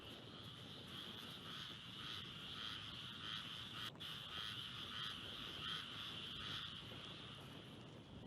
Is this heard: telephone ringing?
no